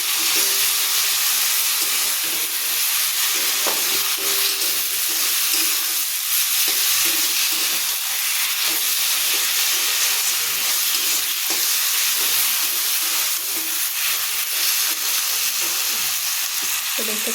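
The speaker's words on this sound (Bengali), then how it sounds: "এই যে মাছের ঝোল রেডি ফুটছে" Fish curry with potatoes boils in a pan, giving a continuous, close bubbling sizzle and hiss that holds steady throughout without pause.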